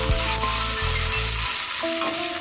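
Chilli paste ground dry with a splash of water sizzles steadily in a hot pan while being stirred, a low hum and clatter dropping away midway to leave a quieter fizz.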